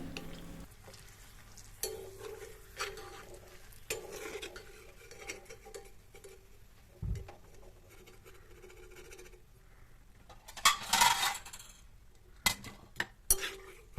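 Fried chilies being scooped out of hot frying oil, with scattered metal scrapes and clinks of a ladle against a pan, faint sizzling between them and a burst of louder clattering near the end.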